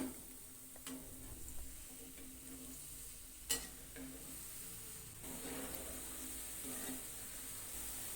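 Instant gulab jamun dough balls frying in hot oil over medium heat, a soft continuous sizzle and bubbling with occasional ticks and one sharp clack of a utensil, close and quiet, no talking.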